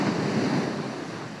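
Ocean waves wash and surge in a steady, broad rush with some wind noise, fairly close and continuous, no voices.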